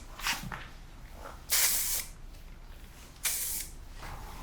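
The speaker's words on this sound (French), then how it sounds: "on met un spray texturisant tout le contour du visage pour donner plus de volume" A hair stylist sprays texturizing spray around the face line of straight hair in a salon. There are three short, bright hissing bursts, one faint and two strong, with quiet pauses between them.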